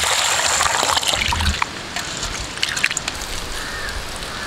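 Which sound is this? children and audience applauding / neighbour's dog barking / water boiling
water boiling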